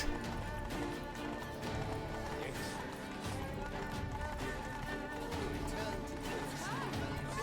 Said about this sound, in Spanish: Era un caballo.